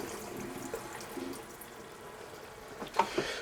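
Leftover antifreeze trickles and splashes out of an RV toilet as its flush pedal is pressed during winterizing, a faint, steady watery flow that ends in a couple of small drips.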